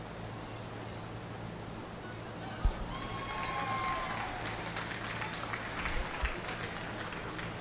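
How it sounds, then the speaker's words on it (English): Applause from the audience at a 4-H/FFA dairy cattle showmanship contest greets the winning intermediate showman. Scattered, moderately distant clapping rises over a hum-filled arena background, with a sharp knock early on. "I want you to greet her with a big round of applause."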